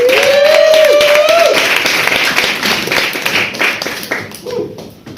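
Comedy club audience applauding live in Kings Cross, a burst of close clapping that tapers off, with a compère's voice and cheering over the start.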